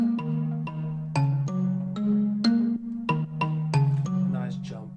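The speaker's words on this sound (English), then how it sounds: "it has the kalimba sounds to make it nice and organic" Kalimba tines plucked in a bouncy, organic melody over a sustained synth pad in a music production, with bright, close, evenly spaced notes ringing over the steady low bed.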